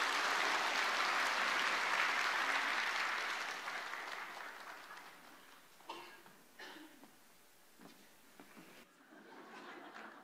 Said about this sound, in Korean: 우리 아이 박수로 축복합니다.